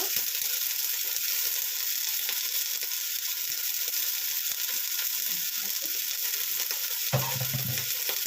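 Pieces frying in a pan of oil for cauliflower and lentil sambar, a continuous close sizzle with stirring scrapes, ending in a low rumbling clatter, no voices.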